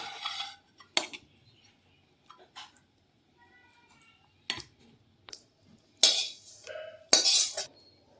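Cooked spinach chicken being scraped and poured from a pan into a serving dish, with scattered metal-on-metal clinks and scrapes of a utensil against cookware, close and fairly quiet with gaps between.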